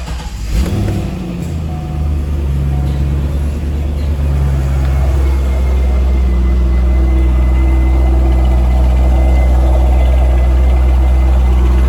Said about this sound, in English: So this is a stock titanium exhaust that came on these cars back in 2002.